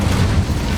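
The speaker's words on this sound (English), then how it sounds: "Incendio." Incendio fire spell cast in Hogwarts Legacy on PS5, a dense low rumbling whoosh of flame that holds steady and loud through the short burst.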